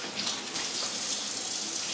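Tap water runs steadily into a sink while a Cavalier King Charles Spaniel puppy is bathed for the first time, a close, continuous splashing gush with no talking.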